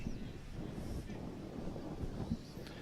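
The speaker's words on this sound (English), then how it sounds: "Jeez, it's windy, isn't it?" Gusty wind buffets the microphone at an outdoor football ground during a women's under-18 grand final, a low rushing roar with faint crowd voices beneath.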